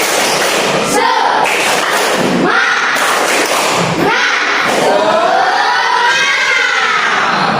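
A standing classroom of students claps out the rhythmic 'tepuk semangat' group clap, loud and close, with bursts of chanted voices between the beats.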